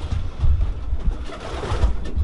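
Pigeons cooing in a loft, several low throaty coos overlapping in a steady burbling chorus, close and fairly loud with faint rustling.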